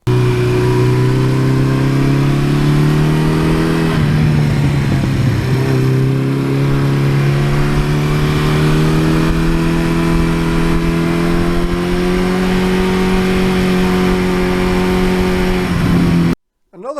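A 1982 Suzuki GS1100E motorcycle engine idles with a deep, rumbly exhaust, steady and close, its pitch dipping briefly midway before settling back, then cutting off abruptly near the end.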